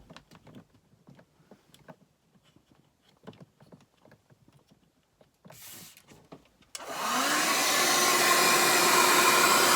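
Soft clicks and handling of caravan wiring give way to a heat gun switched on, blowing a loud, steady close whoosh to shrink heat shrink tubing over bare connections on a 3.5mm auxiliary audio socket.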